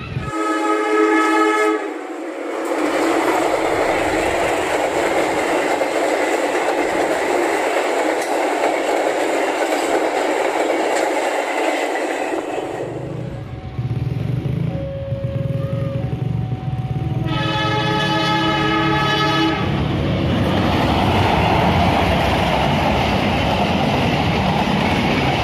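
The Serayu passenger train, running from Jakarta Pasar Senen to Purwokerto via Bandung, passes the Cimindi level crossing with loud horn blasts and a steady, close rumble of wheels and cars rolling by.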